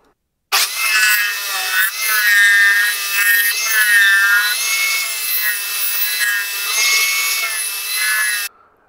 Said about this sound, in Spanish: Y lo haremos en nuestra lijadora de mesa con nuestro taladro Nisu